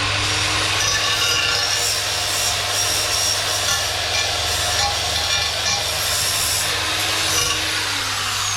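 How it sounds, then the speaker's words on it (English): 80 grit sandpaper roughing up the edge of a valve cover on a 1966 Corvette, a continuous harsh abrasive rasp held loud and close under a steady low hum, with no talking. "get some 80 grit sandpaper and just rough that edge up"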